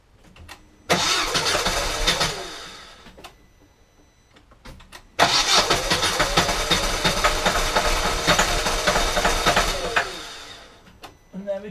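A 2004 Vauxhall Corsa C engine cranks with a brief whirring burst, stops, then cranks again and catches after its camshaft sensor is refitted, running loudly and roughly before settling into a steady idle.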